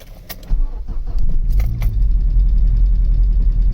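A cold Vauxhall Vectra Elite with the XE engine: a brief key jingle, then the engine catches and settles into a loud, steady low idle close by.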